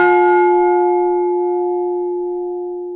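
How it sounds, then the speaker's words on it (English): A single doorbell chime rings out at home, a clear struck tone that sustains and slowly fades over about three seconds, heard alone without talk. "Someone rang our doorbell."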